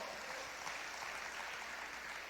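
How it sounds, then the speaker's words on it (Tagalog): A church congregation applauds in a steady, even wash of clapping that fills the whole moment at a moderate distance, with no voices breaking through. "Pumalakpak nga ang handang magpabago."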